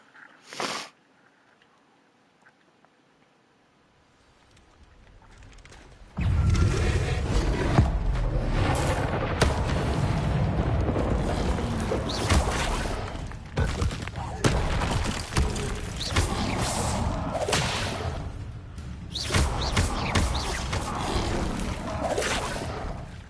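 Incendiary spell blasts in Hogwarts Legacy burst out after a quiet start, a dense run of loud booms and crackling bursts lasting over fifteen seconds, with a voice talking in places.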